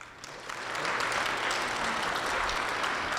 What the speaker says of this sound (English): Give him a really warm welcome round of applause.